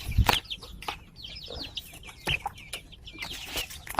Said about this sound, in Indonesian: Di sini ada salah satu ayam saya yang mengalami lehernya yaitu melintir.